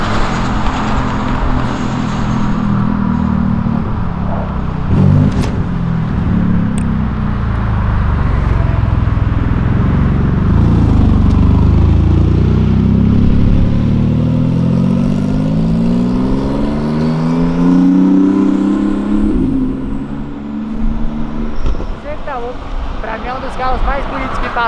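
A Honda Civic Si engine rumbles and revs close by on an avenue, its pitch rising and falling as it passes, loud and steady with road noise throughout.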